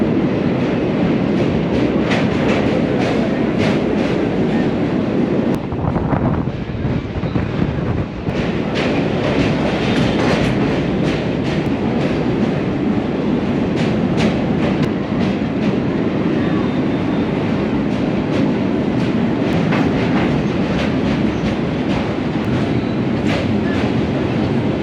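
An Indian passenger train running late on the Kolkata to Varanasi route rolls steadily along the rails, a loud continuous rumble with repeated clickety-clack beats from the wheels and no talk.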